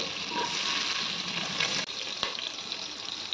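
Green chillies sizzle and fry in a pan of butter and oil for jeera rice, a steady close, loud hiss with a brief dip partway through.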